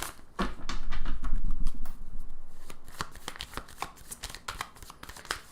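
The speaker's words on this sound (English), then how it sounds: "Do one more little shuffle here." A deck of tarot cards is shuffled by hand nearby: a dense riffling rush at first, then a run of quick, crisp flicks and taps, with no talking.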